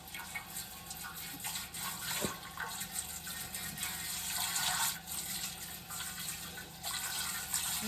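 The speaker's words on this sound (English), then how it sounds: "And I rinse it out a couple times with hot water." Hot running water pours steadily from a tap to rinse a surge bucket milker, a continuous rushing splash with small fluctuations throughout.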